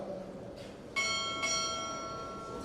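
Two bell strikes ring out at a Navy chief petty officer pinning ceremony, a faint ding followed by a louder pair of clear metallic tones about half a second apart, ringing on in a hushed hall.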